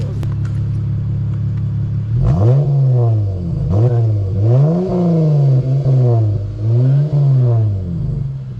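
Car engine with a muffler delete exhaust, likely an Infiniti G37, idles loudly before revving in four or five rising and falling throttle blips, with a deep raspy tone up close.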